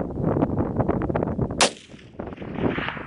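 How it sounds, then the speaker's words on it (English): A single loud rifle shot rings out during a sheep hunt, a sharp crack at close range with a brief fading echo, cutting through ongoing outdoor movement and rustling. "Yeah, shoot him if you can."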